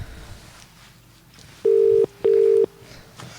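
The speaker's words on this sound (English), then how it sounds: "it sounds like an English dial tone" A British-style telephone tone plays over a phone line during a call-in radio show, two loud, steady, identical beeps in quick succession over quiet line hiss.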